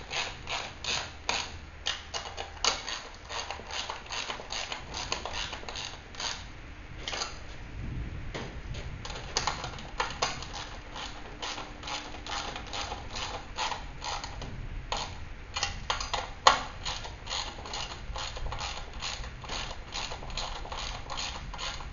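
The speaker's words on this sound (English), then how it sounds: "Then you can tighten up the bottom bolts also till they're firm." Bolts are tightened while a Magnum series magnetic sweeper is assembled, with steady rapid ratcheting clicks and creaks running close and continuous, with no talking.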